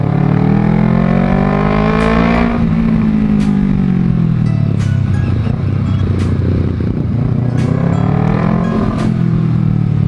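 Honda CBR250RR sport motorcycle engine droning steadily while riding, its pitch sweeping down and back up as the rider shifts and accelerates, loud and close with periodic clicks over continuous wind rush.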